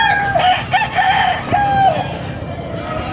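A Papay Grey over Boston Roundhead rooster crows close by, one loud, drawn-out call broken into several rising and falling segments, over faint background noise.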